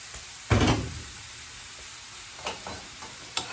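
Goat chops sizzle in a not-quite-hot-enough pan, a soft continuous frying hiss broken by a loud clatter of utensil and pan contact early and a few lighter knocks later.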